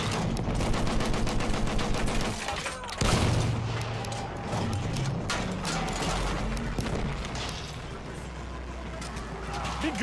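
Machine gun fire in a Battlefield Conquest match in the Sinai Desert, steady rapid rattling across the whole stretch amid dense battle noise and booms, with voices shouting over it.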